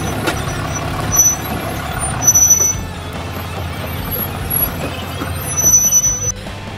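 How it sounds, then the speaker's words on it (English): A 4x4 off-road trash truck rolls along a dirt jeep trail near Flagstaff, Arizona, its engine a steady low rumble with brake hiss, rattles and brief high squeals rising over it, close and continuous without speech. "This is the world's most off-road capable trash truck right here."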